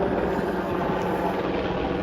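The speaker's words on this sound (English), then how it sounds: "Lots of helicopters around here." Helicopters flying overhead near a harbor with ferry traffic, a continuous loud rotor and engine drone with low throbbing, steady and near, mixed with broad wind or water noise.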